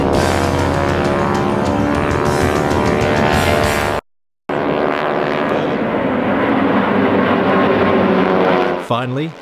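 North American T-6 Texan (Harvard) aircraft in a display formation pass loud and close with a dense, steady propeller-engine drone, broken by a brief dropout, then the roar continues before cutting off near the end.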